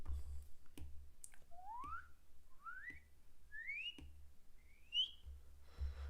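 Someone whistles four rising slides in a row, each swooping upward in pitch, with sharp clicks between them and a faint low hum underneath.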